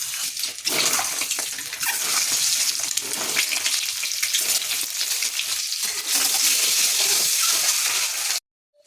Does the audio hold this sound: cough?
no